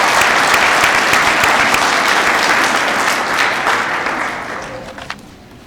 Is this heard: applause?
yes